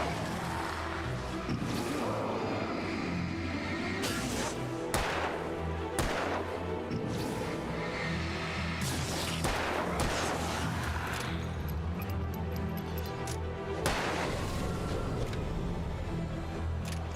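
Rifle shots and heavy combat blasts in the Alan Wake video game, a dense run of loud, sharp reports scattered through a continuous roar of game action, close and with no talking.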